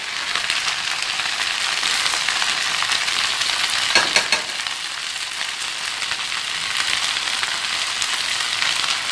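Okra (bhindi) frying with red chili, salt and turmeric in a pan, a loud, dense, continuous sizzle close up, with a short stirring scrape partway through and no speech.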